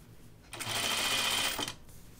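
A serger runs steadily for about a second, finishing the seam edges on pieces of a Grainline Studio Archer button-up shirt. The close, even motor whir starts and stops cleanly, with quiet room sound on either side.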